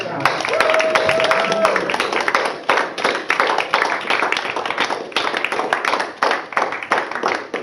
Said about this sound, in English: we have to give Tom the hugest round of applause for us.